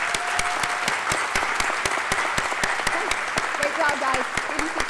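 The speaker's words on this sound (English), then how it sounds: "giving all of these amazing language students a big round of applause" Audience at a high school academic awards ceremony claps for language students, a dense steady round of applause with sharp individual claps and faint voices underneath.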